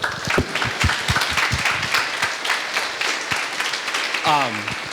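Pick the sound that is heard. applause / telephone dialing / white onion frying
applause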